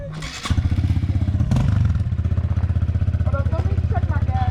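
A motorcycle engine fires up and settles into a loud, close, rapidly pulsing idle with a steady throb, mechanical clatter at the start and a faint voice near the end.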